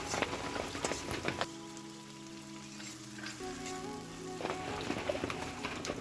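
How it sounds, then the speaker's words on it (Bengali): Small potato pieces fry in hot oil for ghugni, giving a steady, close crackling sizzle that runs the whole time with no voices. "তো আমি এই আলুগুলো তেলেতে ভেজে নেব"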